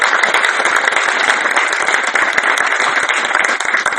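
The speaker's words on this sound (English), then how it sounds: "the Nigerian people deserve a hand of applause" Conference audience applauding steadily and loudly for the Nigerian people, a dense wash of many hands clapping that carries on evenly with no talk on top.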